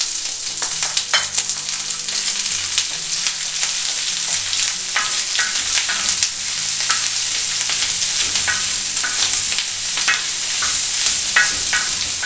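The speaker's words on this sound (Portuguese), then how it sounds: "Eu vou fritar o bacon junto com a linguiça." Bacon and two smoked calabresa sausages fry over a low fire on a plow disc, a steady close sizzle and crackle with scattered pops and faint scraping, no voices.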